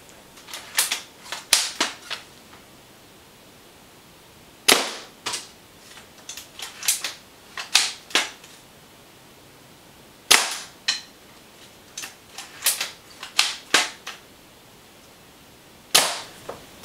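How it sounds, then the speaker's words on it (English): A TSD SD99 L96 bolt-action airsoft sniper rifle, shooting around 390 to 400 FPS with 0.40 g BBs, fires repeatedly. Each sharp snappy shot is followed by quieter clicks and clacks of cycling the bolt, in irregular groups. "the gun is shooting roughly 390 to 400 FPS with 4s"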